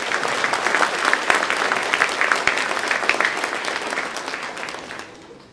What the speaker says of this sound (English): Let's give them both another round of applause